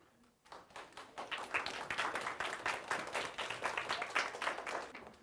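An audience at a school leadership luncheon gives a speaker a steady round of applause. Many hands clap densely for several seconds, swelling quickly and then holding at a fairly even level.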